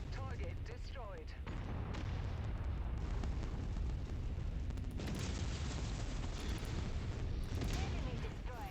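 A destroyed artillery platform explodes in MechWarrior 5 with deep rolling booms and heavy blast rumble that persist loudly throughout, as a game radio voice speaks over parts of it.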